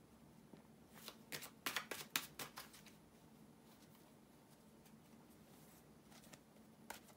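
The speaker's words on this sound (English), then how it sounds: "bear with me a second, guys, to shuffle the cards" Tarot cards being shuffled close by in a quick flurry of riffling bursts, then a pause and one last short riffle. No one speaks.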